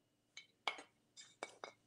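Glass Santa ornament handled at a live sale, giving several short, light clinks in quick bursts, close and fairly quiet with a faint hum behind.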